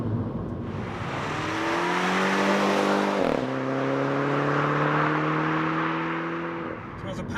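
A 2017 Mini Countryman accelerates smoothly from inside the cabin, its engine note rising steadily through one gear change with a brief dip, then climbing again beneath a continuous wash of road noise.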